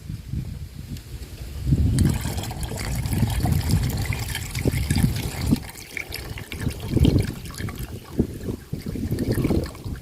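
Water is poured into a plastic 1.5-litre bottle while mixing Ajimino fertilizer, a steady close gurgling trickle with fluctuating splashes lasting several seconds.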